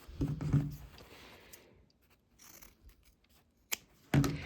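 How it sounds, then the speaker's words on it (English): Scissors trim fabric corners a quarter inch from a sewn seam while making a shirt box bag, giving a few close snips in two bursts with quiet pauses between them. "you can trim 1/4 an inch away from that line on both corners"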